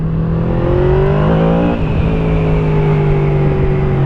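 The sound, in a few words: Yamaha V-Max motorcycle engine revving and popping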